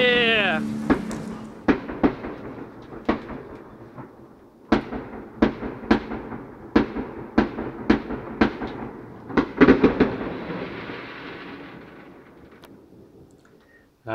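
Fireworks salutes bursting outdoors during a housewarming on a city holiday, a dozen or so sharp booms spaced irregularly with rolling echoes, a crowd or voices murmuring underneath and the last blasts trailing off into a long fading rumble.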